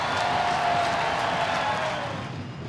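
An ice hockey arena crowd at a Sheffield Steelers v Manchester Storm EIHL game lets out a broad, loud roar that holds steady and then fades over a couple of seconds.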